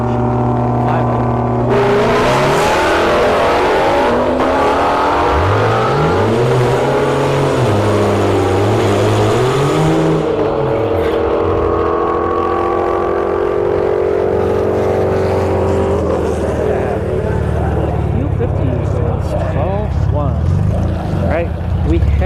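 A modified, non-stock Infiniti Q60 drag car accelerates hard down a drag strip at a motorsports park, its engine note climbing and dipping through gears with loud crackling pops. Crowd and announcer voices sit over the engine.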